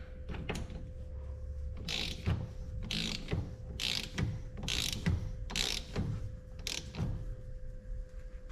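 A torque wrench ratchets in about seven short bursts, roughly one per second, while an axle nut is tightened to 110 foot-pounds on the front of a 2002 Yamaha Kodiak 400 ATV. The clicks are close and clear over a low background hum.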